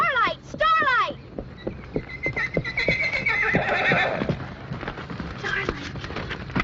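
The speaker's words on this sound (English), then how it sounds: "Is that your horse?" A horse whinnies in a few loud, close calls, then hooves clip-clop and scuffle in a steady run of knocks under a rushing outdoor background.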